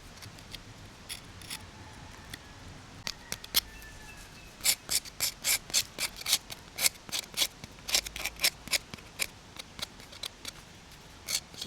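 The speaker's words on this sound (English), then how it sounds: "Don't go too deep with it, just scrape off it." Charred skin being scraped off a roasted sweet potato outdoors: a steady run of crisp, rasping strokes in quick rhythm, close and fairly loud, with a few sparse scrapes before the stroking picks up.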